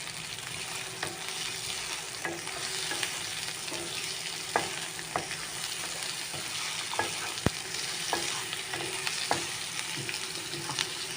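Onions for Goan potato bhaji fry in a pan with a constant sizzle, broken by regular sharp taps and scrapes of a spoon stirring, close and without talk.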